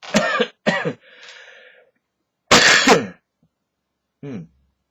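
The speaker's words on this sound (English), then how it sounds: "I just coughed something up" A person coughs several times in harsh bursts, clears the throat, then gives a final short cough. The sounds are close and loud with pauses between them, and no one speaks.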